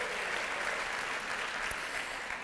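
Audience applause at a high school scholars ceremony for a graduating class, a distant, faint, steady wash of clapping heard throughout.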